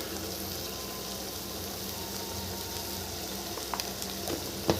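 A vegetable stir-fry sizzles softly in an open pan, a steady low hiss with a few light scraping clicks of stirring near the end.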